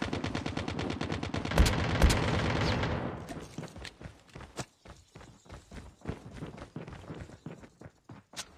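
Rapid automatic gunfire from a new gun in Call of Duty Mobile battle royale, a loud sustained burst of shots for about three seconds, then scattered single shots and footsteps at lower level.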